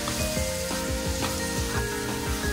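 Chicken sautéing in a pan over a high flame gives a steady, loud sizzle, with repeated scraping stirs that come in a regular rhythm and no voices over it.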